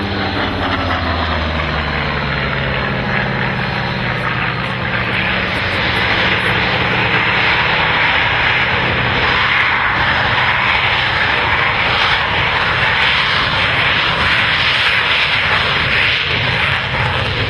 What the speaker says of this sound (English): There is the second largest aircraft of the day after the Vulcan gets airborne.